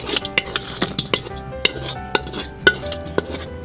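Metal spatula scraping and clanking against a wok while cooking mud crabs, in quick irregular strokes, with a light sizzle underneath and no talking.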